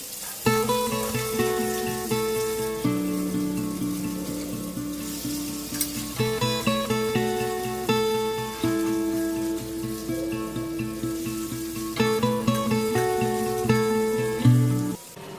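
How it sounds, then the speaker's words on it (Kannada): Fish frying in hot oil in a pan gives a steady, close sizzle with scattered crackles throughout, heard beneath continuous background music. "ಇವಾಗ ಮೀನನ್ನು ಹಾಕ್ತಾ ಇದ್ದೇನೆ ಎಲ್ಲ ಮೀನನ್ನು ಹಾಕಿಬಿಟ್ಟು ಫ್ರೈ ಮಾಡಿಬಿಟ್ಟು"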